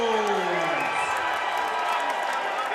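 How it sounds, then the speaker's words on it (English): A fight crowd at a cage-fighting event roars steadily behind fighter John Jones, a dense wall of cheering and shouting voices that holds for the whole stretch as a whistle slides downward early on. "Crowd definitely behind Jones in this one."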